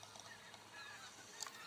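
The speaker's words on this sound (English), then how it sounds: "the most majestic of all the wintering waterfowl are the snow geese." Wintering snow geese honk in California wetlands, a few faint, scattered calls over a soft, quiet background.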